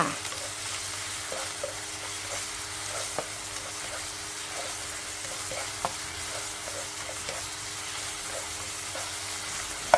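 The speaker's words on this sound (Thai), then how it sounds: "จากนั้นก็ผัดต่อค่ะ" Tofu stir-fried with sugar and light soy sauce in a wok for a vegetarian dish, a continuous steady sizzle with occasional soft scrapes of the spatula, close and alone without talk.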